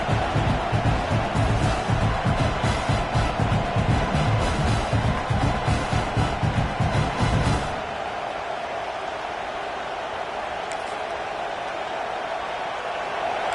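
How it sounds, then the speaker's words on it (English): A dense, roaring crowd with rhythmic pounding fills the first half, then drops to a steadier, softer wash of stadium noise. "listen to this crowd noise. This stadium is vibrating."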